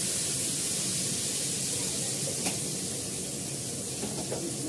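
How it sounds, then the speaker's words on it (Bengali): Potatoes fry in a pan, a steady loud sizzling hiss that holds evenly from start to finish with only small crackles on top. "তার আগে একটু আলুটা ফ্রাই করে নিই ভালো করে।"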